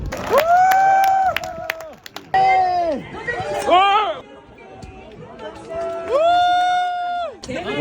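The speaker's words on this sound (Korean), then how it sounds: "박수 한번 더 쳐보시죠" At a nationwide construction-industry football tournament, a crowd cheers in loud drawn-out shouts and chant-like bursts with rising and falling pitch, over background chatter and faint clapping.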